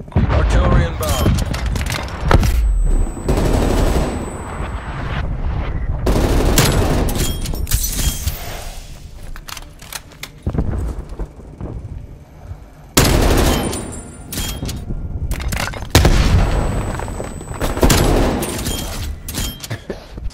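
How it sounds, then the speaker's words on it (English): Explosions and bursts of gunfire from an artillery strike in the multiplayer video game Call of Duty: Black Ops Cold War, several loud blasts coming in waves with rumbling and chattering shots between them and voice lines mixed in. "Artillery inbound."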